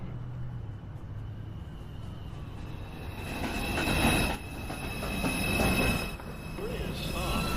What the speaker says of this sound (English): One train. Approaching the station, please stand away from the platform edge.